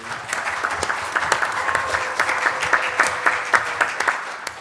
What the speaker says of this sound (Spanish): Lo aplaudimos de vuelta.